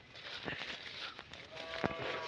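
A bull lows a few times over a busy outdoor cattle market before the Pola festival, the calls fairly faint and spaced apart.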